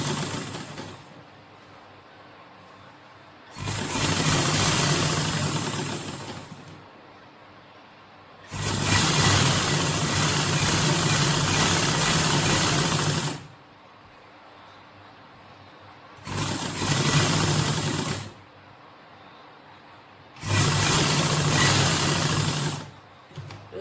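Fabric is stitched on a sewing machine in four runs of close, steady mechanical whirring, each lasting a few seconds, with quieter gaps between them.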